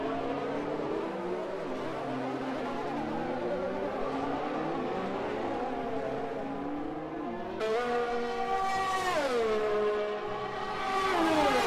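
Race cars scream flat out through a right-hander at the Japanese GP in a racing video game, several engines droning and overlapping at high revs, then one car rushes close with a sharp rising whine and shifting pitch.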